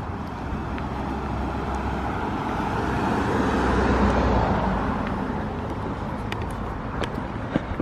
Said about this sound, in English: There's a car coming too.